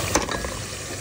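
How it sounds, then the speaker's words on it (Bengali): Spices being sautéed in a pan for iftar during Ramadan, a steady close sizzle with brief stirring scrapes near the start and no talk. "আর মশলা কষা নিতেছি"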